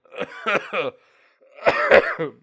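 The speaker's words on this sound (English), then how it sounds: "Excuse me, my cough is horrible." A person coughing while gaming, two short bursts of harsh, throaty coughs close to the microphone with a brief pause between them.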